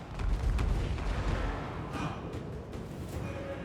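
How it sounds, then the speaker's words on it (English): Mortar fire in a Total War: Warhammer 2 battle thuds out as a heavy, booming low rumble, strongest at the start, with scattered distant blasts and battlefield noise continuing beneath. "Mortar!"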